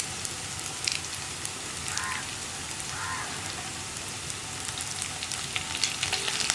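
Curry leaves sizzling and crackling steadily in hot oil for a Kerala-style green peas curry, a dense, even frying hiss with faint pops, close and continuous with no talk.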